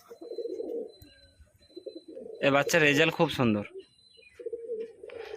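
A breeding pair of racing pigeons gives soft, repeated coos, and someone speaks briefly in the middle before the cooing returns.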